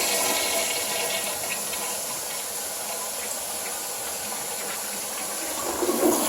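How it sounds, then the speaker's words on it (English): A household toilet flushes in a residential home in South Jordan, Utah, a loud rushing hiss of water that holds steady for several seconds before tapering into refill gurgles near the end. "Toilet's working."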